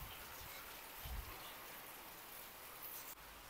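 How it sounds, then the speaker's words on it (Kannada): Heavy rain pouring steadily outdoors, a dense even hiss with a brief low thump partway through, fairly faint and with no voices. "ಸಿಕ್ಕಾಪಟ್ಟೆ ಮಳೆ ಬರ್ತಾ ಇದೆ."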